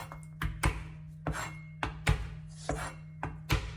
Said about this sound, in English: if you want to skin the garlic faster, that's how I do it